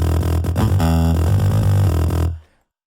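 A deep synthesized bass tone plays loud and sustained for a couple of seconds, shifting pitch slightly before cutting off sharply into silence.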